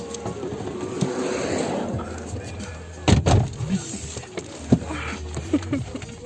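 A car door is handled nearby during a driving test: latch clicks, then a solid thump as it shuts, followed by smaller knocks and rustling inside the vehicle.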